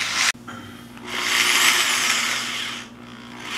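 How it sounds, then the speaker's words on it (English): A power drill drives screws into a wooden bed frame: a short click, then a sustained whirring burst that fades and cuts off. "we're gonna finish screwing in these screws to finish our bed frame"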